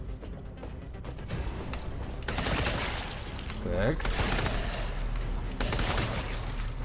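Rapid gunfire from a shotgun in the monster-fighting game Redeemer, several loud bursts of shots and combat noise, with a brief spoken word early on.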